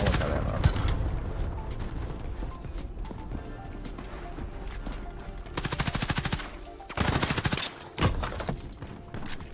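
Gunfire in a first-person shooter video game: repeated short bursts of rapid shots that sharpen into a loud clustered volley near the end, with game noise throughout and no talk.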